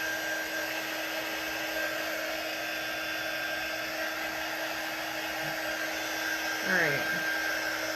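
A hair dryer blows steadily close by, drying a baker's craft cutout project, a constant whining hum throughout with a brief shift in tone near the end; one short spoken word.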